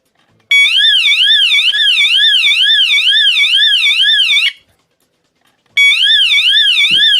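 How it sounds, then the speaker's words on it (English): A smoke alarm being tested blares a loud, steady warbling electronic tone for about four seconds, cuts out briefly, then starts sounding again near the end, with no talk over it. "So, checking their smoke alarms now. This is the 5-minute warning."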